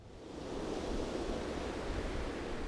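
Strong wind on the island of Pantelleria roars as a steady, broad rush close to the microphone, building slightly in the first half second and then holding with no voices.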